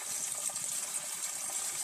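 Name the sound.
warm water running from tap for scrubbing potatoes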